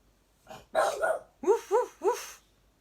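A pet dog gives a soft huff, then a string of rising barks in two bursts, close by and fairly moderate, with no talking over it.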